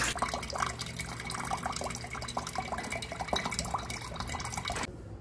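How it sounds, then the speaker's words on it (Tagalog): A weak flow of water trickles into drums in a bathroom, a thin, steady run with scattered drips that stops abruptly just before the end. "Dito sa kabilang, bathroom, ayan, mahina din yung tubig."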